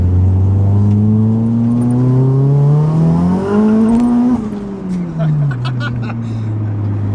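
A 406 bhp Vauxhall Corsa VXR pulling hard in second gear, its loud engine note climbing steadily in pitch, peaking, then dropping off, with people talking over it.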